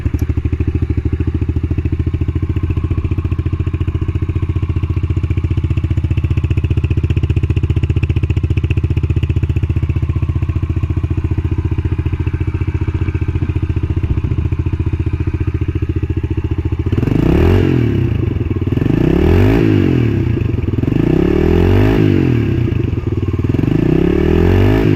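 A 2014 Yamaha TT-R110 dirt bike engine idling steadily and loudly close by, then revved in several rising and falling bursts toward the end, with no talking.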